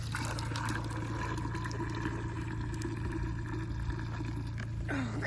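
Water is poured into a hole in ice during a snowless Alaskan winter, a quiet, steady trickling wash that runs evenly for a few seconds and ends with a brief clatter.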